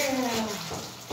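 Running water splashes steadily in a grooming tub as a standard poodle is rinsed, a close, continuous wash with a faint voice-like tone fading early on.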